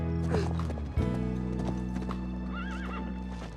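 A racehorse's hooves clip-clop in a close, uneven rhythm, then the horse gives a clear whinny. Faint voices are heard in the background.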